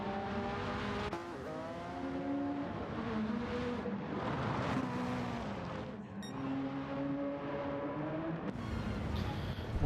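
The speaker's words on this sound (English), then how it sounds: "watch him rip around this racetrack real quick" A race car in a GTO-class championship race speeds around a racetrack, its engine note rising and falling through gear changes in a continuous loud whine, heard up close as from an in-car camera.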